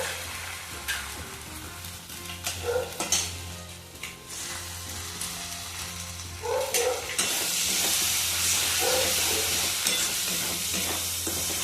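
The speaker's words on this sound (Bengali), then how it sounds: "এরপর এটা শুকনো শুকনো করে ভাজা ভাজা করে নিতে হবে।" Egg frying with spices in a pan for dhaba-style egg bhujia, a steady close sizzle broken by intermittent stirring and spatula scrapes, the sizzle swelling louder toward the end.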